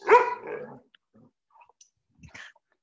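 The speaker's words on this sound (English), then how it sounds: "my dog's barking" A single loud, close dog bark opens, followed by faint scattered clicks and small noises.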